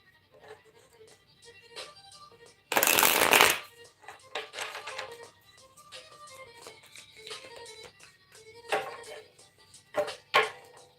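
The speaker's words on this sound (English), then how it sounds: "I'm going to go ahead and give it a pre-shuffle" Tarot deck getting a pre-shuffle, with one loud dense burst of riffling early on and lighter card flicks and shuffles scattered through the rest, close and fairly quiet otherwise.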